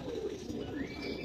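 Giribaz pigeons give soft, low cooing close by against a murmuring background, continuous and faint.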